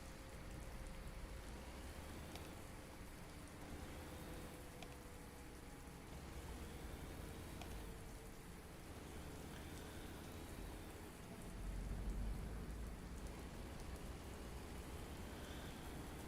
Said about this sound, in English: I'll stay outside the cab just to kind of enjoy the rain and not listen to the poorly insulated cab.